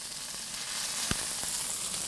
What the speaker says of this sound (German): Die Steinpilze sind gebraten, die sind gewürzt.